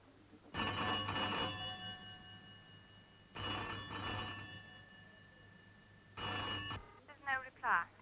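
Old-style telephone bell ringing in three long bursts separated by pauses, moderately loud, followed by brief, faint speech-like sounds at the end.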